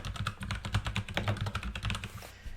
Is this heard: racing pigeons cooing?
no